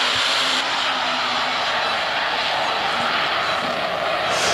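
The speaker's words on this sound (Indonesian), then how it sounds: "Cuman jet tempur yang paling mematikan itu ada si ini, Sukhoi, guys, 57. SU-57." A Sukhoi Su-57 fighter jet flying, a loud, steady roar of jet engine noise filling the whole few seconds without a break.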